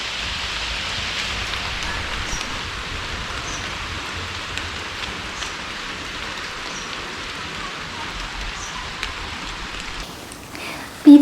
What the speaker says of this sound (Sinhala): දැන් ඔන්න වහින්න පටන් ගත්තා.